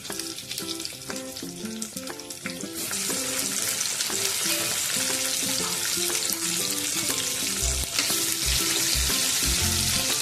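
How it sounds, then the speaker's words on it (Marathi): Stuffed brinjals frying in oil with cumin, giving a loud, continuous sizzle that swells when the aubergines go into the pan, with occasional stirring noises, no talking. "जिरे टाकल्यानंतर आपण टाकूया भरलेले आपले वांगे"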